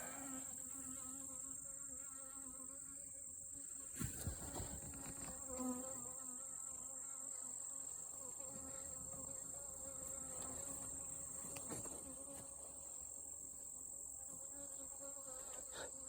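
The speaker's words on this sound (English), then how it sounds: "There's plenty of bees." Honey bees buzz steadily around an open beehive frame during an outdoor hive inspection, a continuous close droning hum with a few louder passes near the microphone.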